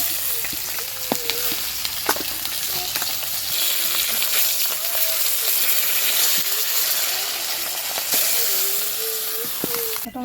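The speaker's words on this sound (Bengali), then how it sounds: "মাছগুলো ভাজা হয়ে গেছে" Small Japanese puti fish frying in hot oil in a home kitchen, a steady broadband sizzle running throughout with occasional pops and faint clinks, while a voice talks intermittently over it.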